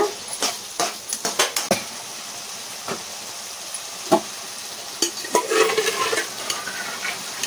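Irregular scraping and clinking of a spoon stirring ridge gourd curry in a pan, with a soft sizzle underneath and scattered louder knocks.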